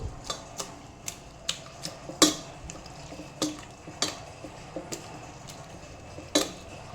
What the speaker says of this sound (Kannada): ಇವಾಗ ಇದನ್ನು ಚೆನ್ನಾಗಿ ಸ್ಮ್ಯಾಶ್ ಮಾಡ್ತೇನೆ.